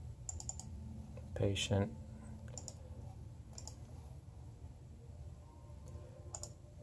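Computer keyboard typing and mouse clicking at a desk, with scattered sharp clicks and a quick burst of keystrokes, faint and close, while a person talks quietly.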